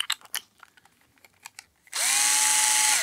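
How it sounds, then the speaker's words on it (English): A small Ryobi battery-operated screwdriver that spins at 500 RPM is used for restringing guitars. Some light clicks and taps come first, then the motor whirs up into a steady, loud, high whine that keeps going to the end. "I found this little Ryobi battery-operated screwdriver. I like it a lot because it spins 500 RPM,"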